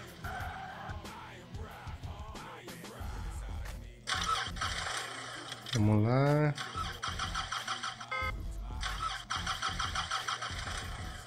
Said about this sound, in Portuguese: vamos ligar o GTR